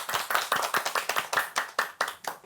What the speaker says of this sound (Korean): 신부님을 박수로 모셔보겠습니다.